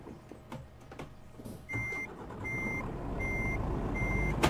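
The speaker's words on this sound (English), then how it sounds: "Let's start the truck." A heavy truck in the Euro Truck Simulator 2 video game starts up and gets moving, its low engine rumble rising steadily beneath a loud, evenly spaced series of reversing-style warning beeps. No one speaks.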